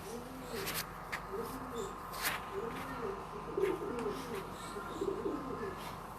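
Pigeons coo in a steady rolling rhythm, several soft repeated phrases close by, with faint chirps and light background noise and no talk.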